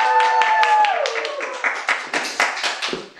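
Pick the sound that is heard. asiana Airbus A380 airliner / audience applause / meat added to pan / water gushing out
audience applause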